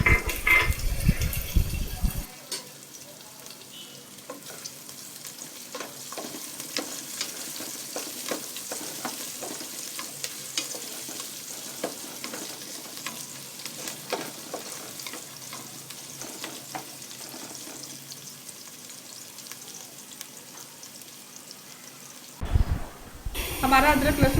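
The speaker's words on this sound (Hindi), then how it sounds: "अभी अदरक लहसुन हरी मिर्ची को एक साथ डाल के उसको फ्राई करेंगे। ब्राउन होने तक उसको चलाते रहें।" Ginger, garlic and green chilies sizzle steadily in a pan with oil while being stirred, a soft crackling fry with occasional scraping, faint and continuous, with louder handling noise at the start and end.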